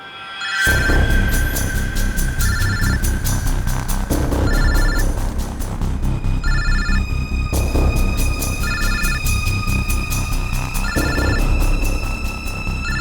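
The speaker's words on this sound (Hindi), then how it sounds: "सर इस पूजा के बैग से फोन बज रहा है।" A mobile phone rings inside a bag, a loud electronic ringtone repeating its short melodic phrase over and over without pause for the whole stretch.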